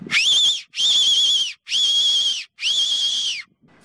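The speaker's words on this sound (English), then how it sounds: "it also comes as the Silva Fox Whistle Mini, which fits great on your keyring and it punches out just as much sound" Silva Fox Mini keyring whistle blown in four loud, shrill blasts of nearly equal length, each under a second with short gaps between, close to the microphone and with no talk over it.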